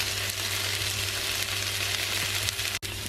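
Chopped tomatoes and spices frying in a pan for vegan palak paneer, a steady close sizzle running throughout with a brief stirring knock near the end.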